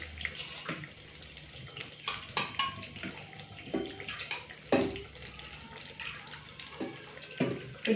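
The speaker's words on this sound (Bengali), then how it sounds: "বেশ, হাতটা ধুয়ে নিই" Water from a kitchen tap runs while hands are washed during home cooking, with faint splashing and occasional clinks of dishes. The sound is soft, close and intermittent, with no talking.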